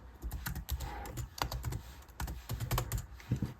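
Clicky keystrokes on an old MacBook laptop keyboard come in quick irregular bursts with short pauses, close and fairly quiet, with no voices.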